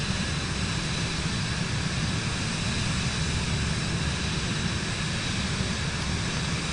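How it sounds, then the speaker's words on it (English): An aircraft engine drones in Microsoft Flight Simulator 2024 as a constant, dense, loud roar with no breaks and no talk. "I hear another aircraft that's probably 8:30."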